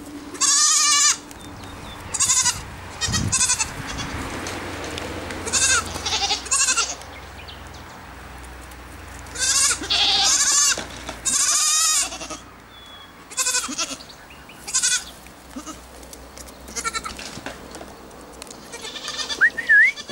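Dwarf goats bleat repeatedly, loud wavering cries from several animals coming in scattered bursts over a quiet background.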